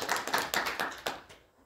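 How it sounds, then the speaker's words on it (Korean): A church congregation claps together in thanks, with a quick, overlapping patter of many hands ringing in a large room for a little over a second before fading out. "같이 한번 박수 한번 합시다."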